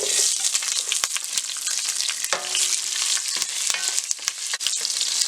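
Dried red chillies and curry leaves frying in hot oil with chana dal and cumin for sambar, a loud, dense, continuous sizzle with scattered sharp pops and spatula stirs.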